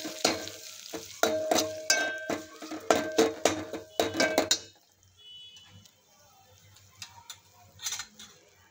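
Green chili, garlic and peanut thecha are sautéed in a pan, with a spatula striking and scraping the pan in quick rhythmic strokes for several seconds, then a faint sizzle with a few light clinks.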